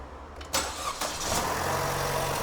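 A Chevrolet Cruze with an ignition coil fault that makes the engine shake cranks briefly and catches. It then settles into a steady, moderately loud idle with no voices.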